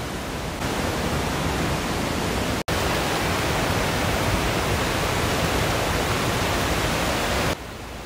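Waterfall and river beside a wasabi farm in Shizuoka, Japan, a dense, constant rushing roar of falling water that fills the whole sound, steady and close, with a brief dropout partway through.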